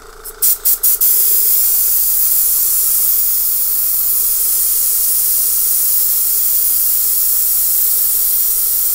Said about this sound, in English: just get a little bit of spray coming out